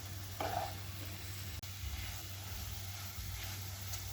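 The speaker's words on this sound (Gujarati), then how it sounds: "અને તબેથાની મદદથી બધું શાક હલાવી દઈશું" A spatula stirs capsicum subzi in a cooker over low heat. The sizzle is faint and steady, with soft scraping and a few quiet knocks, and no talking.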